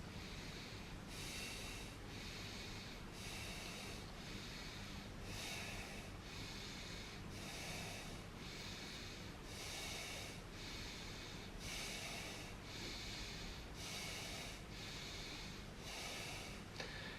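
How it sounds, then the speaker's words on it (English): Steady rhythmic yoga breathing, inhales and exhales alternating at a regular pace of about one cycle per two seconds, close and clear over a constant low background hum with no talking. "we're going to inhale for 2 seconds, exhale for 2 seconds"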